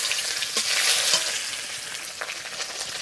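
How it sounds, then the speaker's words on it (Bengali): Whole cumin seeds, bay leaf and chopped onion frying in hot oil for an ilish fish and taro-stem curry, a steady loud crackling sizzle with a few sharper spits and stirring scrapes, no voices. "তেল ফোড়নে গোটা জিরে তেজপাতা পেঁয়াজ কুচি"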